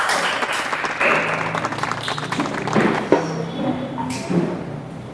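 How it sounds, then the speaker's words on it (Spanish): Congregation applauding during a church service, a moderate, uneven patter of clapping with a few sharper thumps, heard without talk over it. "Demos un aplauso al Rey y se pueden sentar."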